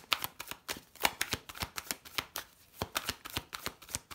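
Tarot cards are shuffled and laid down, a run of crisp riffling flicks and soft slaps in irregular bursts, quiet and close, with no speech.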